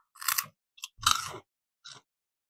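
Someone bites into a crispy rice-based potato snack with spicy Korean chicken sauce flavour: four close, crisp crunches in uneven bursts, with silence between them.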